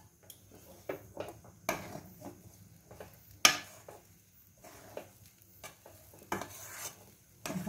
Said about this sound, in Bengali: এখন একসাথে সব মিক্সড করে নেব